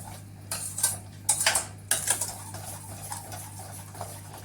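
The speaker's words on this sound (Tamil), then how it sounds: "நான் இப்போ இந்த ஒரு கப்பு ஜீனியை போட்டு கிளறி விட்டுக்கிறேன்" A cup of sugar is stirred into carrot rava kesari with ghee in a pan, giving several close clinks and scrapes of a spoon against metal in short bursts, then lighter tapping over a low steady hum.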